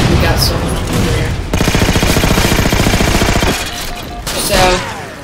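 Rapid automatic gunfire from Halo 4 multiplayer gameplay, a dense, loud burst of repeated shots lasting a couple of seconds, framed by scattered single shots and game effects before and after.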